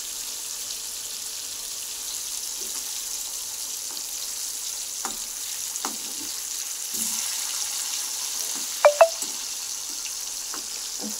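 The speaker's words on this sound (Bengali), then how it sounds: "আস্তে আস্তে হোক মাছ ভাজাটা" Fish frying gently in a pan gives a steady close sizzle with scattered light clinks and a couple of sharp taps near the end, with no voices.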